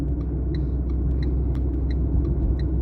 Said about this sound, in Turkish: araç yüksek sesle içeride gürültü var, bağırıyor